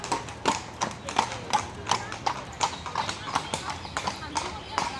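Horses pulling tourist ride carriages through Seville clop along in a steady, even rhythm of hoofbeats on pavement, close and clear, with a person talking over them.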